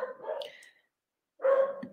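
A dog, newly brought home by its owners, barks in two short close bursts separated by a brief silence, loud and sharp.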